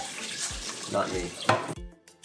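Rice being rinsed under running tap water in a sink, with close splashing and sloshing that stops abruptly near the end, and a brief spoken remark over it.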